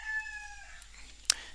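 A rooster crows in the countryside of Bali, a faint, drawn-out call heard at a distance over steady background hiss, with a brief sharp click near the end.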